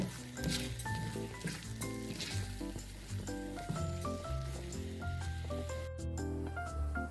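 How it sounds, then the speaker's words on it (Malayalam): Banana halwa made from ripe plantains cooking in ghee in a pan, stirred steadily with a soft sizzle and scraping that runs continuously at close range. "അപ്പം നന്നായി ഇളക്കി കൊടുക്കുക കേട്ടോ."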